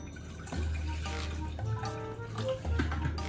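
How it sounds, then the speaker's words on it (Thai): Tap water runs and splashes into a pot as it fills for boiling noodle-soup broth in a home kitchen at night, a short steady stream at close range. "ใส่น้ำก่อน"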